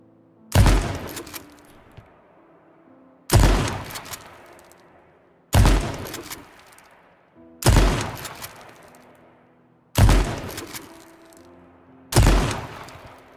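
Shotgun blasts from the video game H1Z1, fired while moving sideways: six loud, sharp booms spaced about two seconds apart, each with a short decaying tail and nothing between them.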